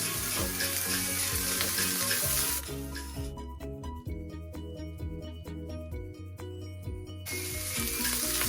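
Sausages fry in butter in a pan, giving a loud, steady, close sizzle throughout. The crackle drops briefly in the middle, and light clinks are audible.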